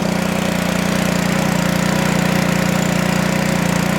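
A pressure washer's small gasoline engine runs steadily with the choke on, giving a loud, even, close-up drone with a constant low throb and no speech over it.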